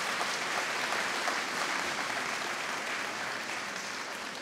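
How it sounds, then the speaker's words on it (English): An audience claps steadily through a graduation ceremony at Coláiste Chiaráin, the dense, even applause filling the hall and tapering slightly toward the end, with no clear voices over it. "So we give a massive round of applause to Jane and the Grads Committee"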